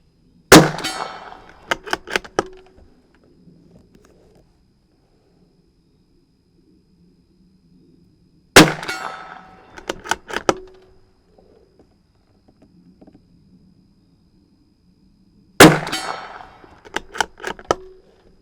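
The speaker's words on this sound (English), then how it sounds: "Today I'm just going to shoot straight from the magazine." A .22lr CZ 457 Varmint MTR rifle fires three sharp cracks, spaced several seconds apart, each followed by brief clicks and clatter of the bolt cycling rounds from the magazine, with a quiet outdoor background between shots.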